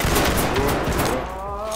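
Gunfire from a shooter in a room in a police tactical video game: a dense, loud burst of rapid shots and echoing blasts filling the whole moment, dense and close.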